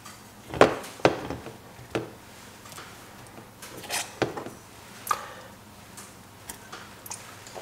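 Knife chopping fresh ginger for tea, about a dozen sharp, irregular knocks on a board, some clustered in quick pairs, clear and close with quiet gaps between, no voices.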